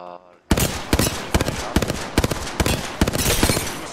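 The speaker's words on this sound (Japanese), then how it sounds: "これ多分銃声っすよ。" Rapid gunfire from the video game Apex Legends crackles in sharp, repeated bursts, loud and close, with a brief tonal sound just before the shooting starts.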